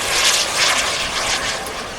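A radio-controlled jet airplane flies at a hot air balloon festival, its engine a steady loud whooshing whine with gentle swells as it passes, heard alone without voices.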